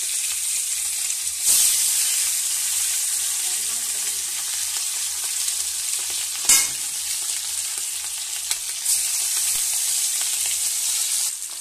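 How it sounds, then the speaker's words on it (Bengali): Fish frying in hot oil in a wok, a loud continuous sizzle with a few sharper bursts as pieces shift or are stirred, no talking. "কড়া ভালো করে গরম করেই মাছটাকে ছাড়তে হবে"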